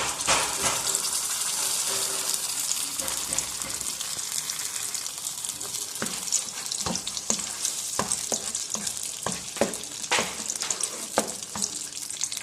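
Blended spice masala fries in oil in a pan for a Pakistani chickpea dish, a continuous loud sizzle with a dense hiss and repeated sharp stirring clicks and scrapes growing busier toward the end.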